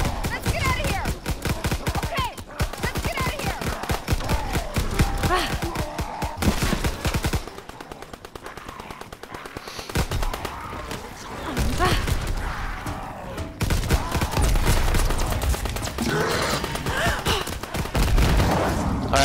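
Rocket pistols with infinite ammo fire in Call of Duty WW2, a dense, rapid stream of loud shots and explosive blasts that pauses briefly midway and then resumes, with a voice at times over the gunfire.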